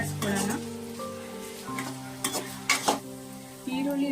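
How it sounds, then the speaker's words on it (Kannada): Chopped onions and green chillies fry in oil while being stirred, a soft sizzle broken by a few sharp scrapes and clacks of the spoon against the pan, with background tones throughout. "ಆಮೇಲೆ ಈರುಳ್ಳಿ ಸ್ವಲ್ಪ ಕಲರ್ ಬಂದು ಫ್ರೈ ಆಗೋ ಗಂಟ ಇದನ್ನು ಸ್ವಲ್ಪ ಕೈ ಆಡಿಸ್ಕೊಳ್ಳೋಣ"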